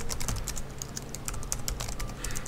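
Rapid, close keystrokes on a computer keyboard as a login is entered on an OpenVMS 6.1 VAX system, a dense stream of sharp clicks with no talking.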